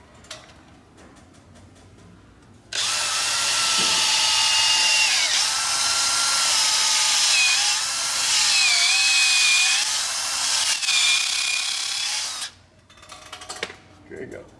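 A power drill drives long screws through a board into a 4-foot heavy timber, running loud and close for about ten seconds with rising and falling pitch as the screw bites, with brief talk before and after.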